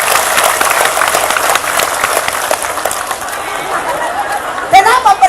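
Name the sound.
audience applause for the organizers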